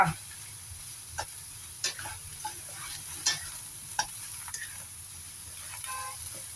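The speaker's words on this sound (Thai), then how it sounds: "ค่อยๆผัดนะคะ" Long eggplant being stir-fried in a pan, with scattered scrapes and soft sizzling bursts of a spatula turning the slices over a steady low hiss, close and moderately quiet.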